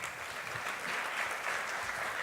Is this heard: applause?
yes